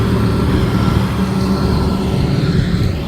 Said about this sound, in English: This tractor.